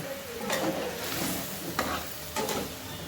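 Fish with a little salt simmering in a pan, a steady soft sizzle with occasional stirring scrapes at a moderate distance, no talking.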